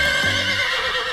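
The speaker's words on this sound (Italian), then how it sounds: "Tutti voi conoscete già il mio cavallino Rusty!" A cartoon pony whinnies in one brief, loud, shrill call that trails off quickly, heard over a bright musical background.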